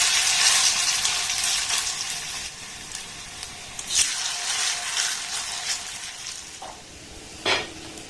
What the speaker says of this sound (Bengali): একইভাবে সবগুলোকে সুন্দর করে আমি ভেজে নেব।